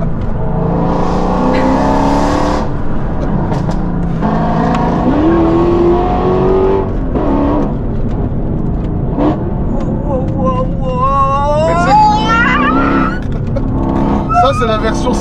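A Mercedes-AMG track-version car on a damp circuit, its engine revving and rising in pitch through several pulls with a high whine toward the end, loud and close, while voices talk over it.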